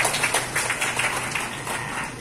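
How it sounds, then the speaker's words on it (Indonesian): Audience applause in a hall at a university forum celebrating the 65th anniversary of UIN Syarif Hidayatullah Jakarta, a steady patter of many hands clapping at moderate level with no talk over it. "Tepuk tangan di sini untuk kita semua."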